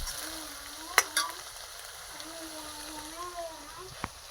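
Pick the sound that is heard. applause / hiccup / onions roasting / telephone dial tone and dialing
onions roasting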